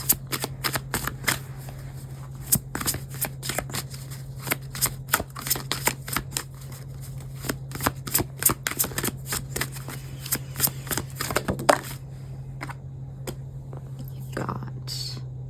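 Tarot cards are shuffled rapidly and repeatedly close up, a dense crisp riffling that runs for several seconds, then slows and stops, over a low steady hum.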